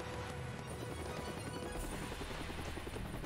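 A helicopter in the video game Yakuza 4 makes a loud, continuous rotor roar with steady chopping that fills the whole stretch, heard up close and alone.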